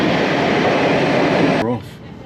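A locomotive-hauled train in Switzerland rumbles loudly and close for most of the clip, then the noise drops abruptly near the end as it passes or a door shuts, leaving a quieter hum.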